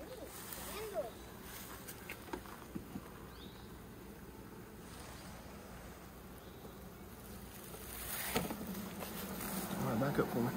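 Honeybees from a large swarm buzzing around an opened hive with wax comb, a faint, continuous drone under occasional talk and handling noises, swelling slightly toward the end.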